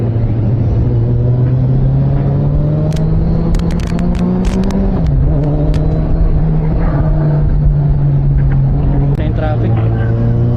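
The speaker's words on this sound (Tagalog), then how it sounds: "Traffic." Steady, loud engine drone from a Kawasaki Versys 1000 motorcycle ridden through road traffic on a route from Las Piñas to Sampaloc, Quezon, with a few brief horn-like bursts and other vehicles around and a rider talking over it.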